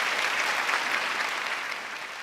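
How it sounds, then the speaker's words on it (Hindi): A crowd bursts into dense, continuous clapping at a party, loud and close, tapering off slightly toward the end. "अरे तालियां भाई, तालियां।"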